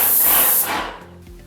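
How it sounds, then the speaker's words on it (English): A Wagner airless paint sprayer sprays in a left-to-right pass, a loud close hiss that fades and tapers off within a second or so. "Now we're going to spray left to right."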